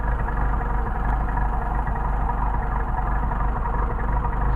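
An engine idles at an even, unchanging speed while a linkage turnbuckle is adjusted, giving a continuous close, steady rumble with faint clatter and no voices.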